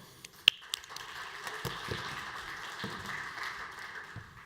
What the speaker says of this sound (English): I'd like to give a round of applause to Mike and his team at D10E